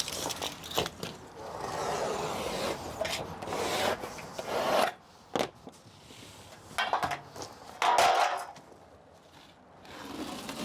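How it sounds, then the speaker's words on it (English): Plasterboard being trimmed in place with a blade, heard as repeated close rasping scrapes and rubbing strokes in several bursts separated by short pauses. "Then I'm just going to trim that board up off straight away in situ."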